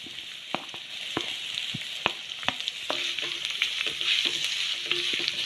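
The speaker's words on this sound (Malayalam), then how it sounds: "ഇനി ഇതിലേക്ക് നീളത്തിൽ അരിഞ്ഞിട്ടുള്ള സവാള ചേർത്ത് കൊടുക്കാം" Sliced onion sautéing in a pan for kadala rava upma, a steady close sizzle with a series of sharp utensil taps and stirring scrapes repeating through it.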